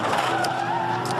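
A Supercars race car runs wide and skids around an outside wall, giving a steady loud engine drone with a sustained tire squeal tone and occasional sharp scraping bursts.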